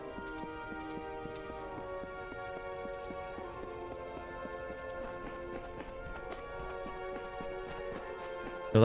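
Heavy armored rhino-like beasts in the video game Kingdoms of Amalur trot along with a steady, faint clip-clop of hooves, running continuously under a bed of sustained ambient game music.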